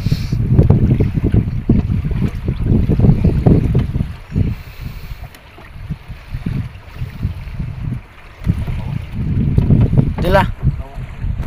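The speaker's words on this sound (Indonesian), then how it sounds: "Wah, kuat anginnya." Strong wind at sea buffets the microphone aboard a boat in bad weather, a loud, gusting roar that surges and eases in waves, with a person speaking over it.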